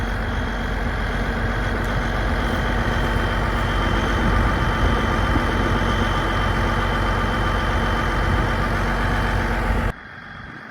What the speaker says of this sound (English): kind of hear a bit of a whine or a whistle. That's the turbo on the New Holland.